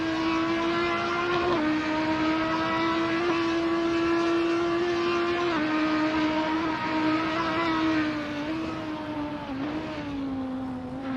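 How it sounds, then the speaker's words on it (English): GT3 race cars on a track, among them a BMW: a steady, loud engine drone holds throughout, with small pitch shifts as the car changes gear and speed. "Ashley's still tagged on to the back of Mark's BMW, and that Beamer's looking good"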